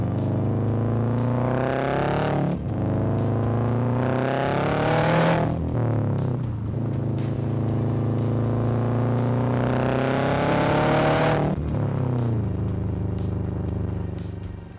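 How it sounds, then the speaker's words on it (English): A Subaru Forester is driven flat out on a dirt road, its engine revving hard and rising through the gears with wheel spin, a loud, steady close roar that surges and dips with each shift. "Foot flat, lots of wheel spin, quite a lot of dust."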